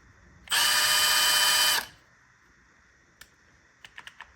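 A Milwaukee M12 cordless 1/2-inch impact wrench (M12FCIWF12G3) fires one short burst of about a second and a half in its first mode, loud and close, followed by a few faint clicks.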